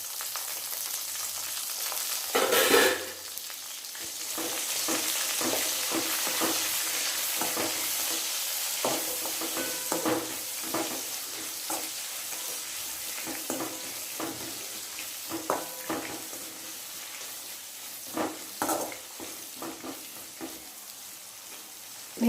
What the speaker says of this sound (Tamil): இப்போ நம்ம நறுக்கி வச்சுருக்கிற பெரிய வெங்காயம் போட்டுக்கலாம்.